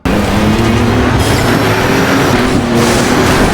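Race cars in the video game Dirt Showdown pass close by with a loud, sustained engine roar and shifting tones, ending in a rising whoosh, with no talk.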